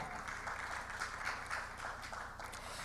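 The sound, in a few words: audience applause for a panelist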